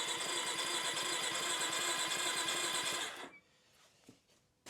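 A 1993 Yamaha Big Bear 350 ATV engine cranks over on the starter with a fast, loud, even churning for about three seconds, then stops, leaving faint clicks and handling noises.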